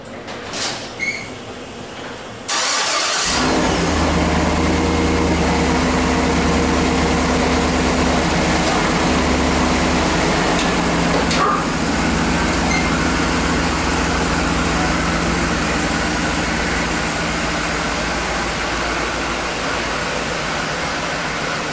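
Truck engine starting and then running with a loud, steady low rumble as the vehicle pulls out of a cold garage, with a sliding squeak at the start and no talking.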